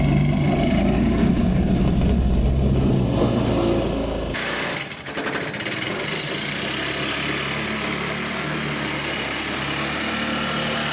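A petrol four-stroke engine fitted to a converted tracked bicycle runs steadily and loudly up close, with a rough, buzzing drone that drops slightly in pitch midway and then holds level.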